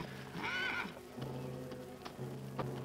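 A lame horse in a 1955 western TV series gives one loud, harmonic neigh early on, then fainter hoof clip-clops and scuffs continue nearby.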